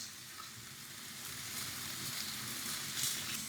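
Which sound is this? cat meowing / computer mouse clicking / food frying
food frying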